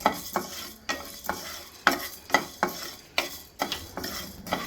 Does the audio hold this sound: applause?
no